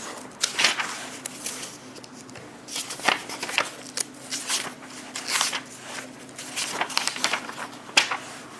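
A printed book of hadith, Sha'b al-Iman by al-Bayhaqi, being opened, heard as close paper rustles and page flicks in uneven bursts, with no speech.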